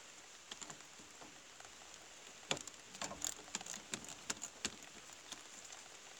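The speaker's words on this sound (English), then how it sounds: "It's raining a lot." Faint, steady rain falls outdoors with a soft constant hiss, broken by scattered sharper patters and drips that thicken midway.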